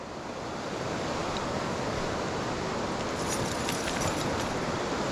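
Broadband rushing water fills the whole stretch, loud and steady, as a dog runs and splashes through a stream in a park, with a few brief brighter splashes toward the end.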